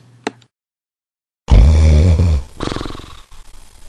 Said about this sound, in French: Le Père Noël ronfle.